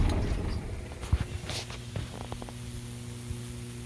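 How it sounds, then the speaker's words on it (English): Steady low electrical hum from an overhead 230,000-volt high-voltage line feeding a large power transformer at a substation on a snowy day, constant and moderately loud with a faint crackle and a few light footstep-like knocks. "but man, that high line is noisy."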